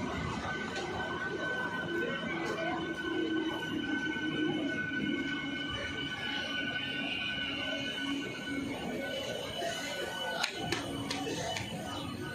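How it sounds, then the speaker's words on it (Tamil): A train passes at a distance, a low steady rumble with faint wheel noise, quiet and continuous. "இந்த பக்கம் சென்ட்ரல்லேருந்து ஒரு ட்ரெயின் வருது."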